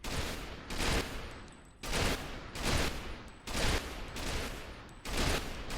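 Rapid bursts of ONI gunfire in the Ghost Recon Phantoms shooter, about six loud, evenly spaced volleys of shots with short gaps between them, with no talking.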